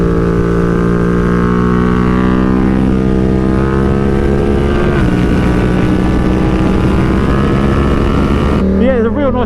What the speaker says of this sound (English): the motor, well, it's just dominated by that soundtrack, isn't it?